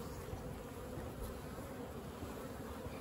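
Honeybees hum in a steady, dense drone at an open hive being inspected, with frames of capped brood and pollen; the buzzing is close and continuous throughout, with no talk.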